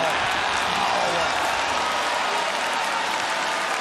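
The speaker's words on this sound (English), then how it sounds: "the crowd erupts" An MMA crowd roars into loud, sustained cheering and applause at a fight finish, a dense, unbroken wall of sound that holds for several seconds.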